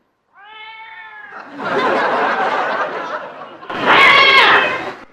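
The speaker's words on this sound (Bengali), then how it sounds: "বিড়ালের দল ঝগড়া বাঁধিয়েছে।" A group of cats fighting: one clear meow opens, then harsh snarling yowls and hisses swell in two loud, close bursts with no talking.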